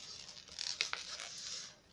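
A strip of tape is peeled off the back of a package, giving a quiet, close scratchy rasp with a couple of small sharp snaps midway.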